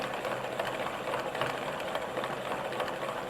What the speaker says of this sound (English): You can see how much faster the ball winder works than winding it by hand.